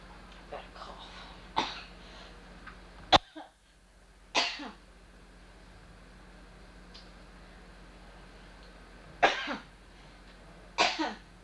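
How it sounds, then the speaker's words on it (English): Several separate coughs, sharp and fairly close, spaced irregularly over quiet background hiss with a low steady hum. "Got a cough."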